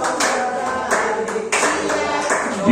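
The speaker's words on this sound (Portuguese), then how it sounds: "pode bater palmas alegres para Jesus e Salvador." A church congregation claps along to a Portuguese worship song, sharp rhythmic handclaps landing on the beat over singing and instrumental music, close and fairly loud.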